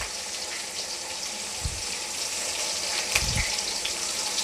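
Ginger garlic paste frying in a pan of browned onions for a chicken biryani, a steady broadband sizzle with a couple of brief low thumps, fairly close and with no talk.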